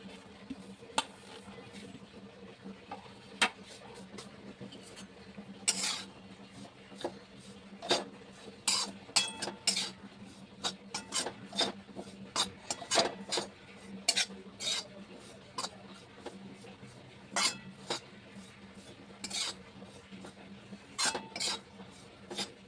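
Grated coconut for ragi laddus is warmed in a pan, with soft scattered scrapes and clinks of a spoon stirring against the metal over a quiet background.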